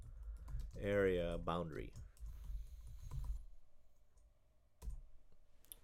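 Quick keyboard taps of a layer name being typed on a computer come in short bursts after a spoken phrase, light and close, with a faint click near the end.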